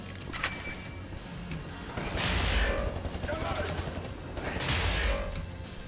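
A charged weapon fires in the video game Wolfenstein: The New Order, with two loud, rumbling bursts of blasts and crashes separated by a short gap, over steady game background noise.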